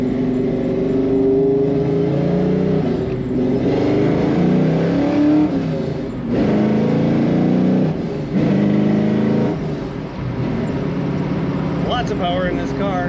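A 1967 Ford Mustang coupe with a 5-speed manual pulls through its gears, engine pitch repeatedly climbing then dropping at each shift, loud and close, with music playing alongside.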